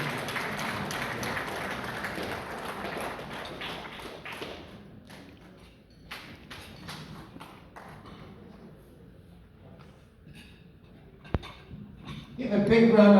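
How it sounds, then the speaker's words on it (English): Audience applause at a Sierra Leone health care symposium in Detroit, a broad wash of clapping that builds early, thins out midway, then swells again near the end, with a few sharp taps and voices in the room. "please put your hands together for His Excellency, the Sierra Leone Ambassador to the United States"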